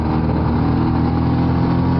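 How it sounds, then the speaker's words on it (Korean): Motorcycle engine lugging in gear at too low RPM, a steady, close, loud low-pitched drone with a rough juddering pulse throughout, no voices. "이렇게 운전해서 계속 더더더더 하고 오토바이가 털리면서 가면은 오토바이 엔진 헤드가 금방 망가집니다"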